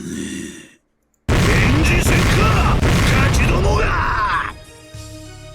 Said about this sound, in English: A roar and an explosion sounded at the same time.